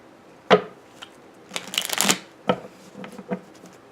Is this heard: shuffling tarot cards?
yes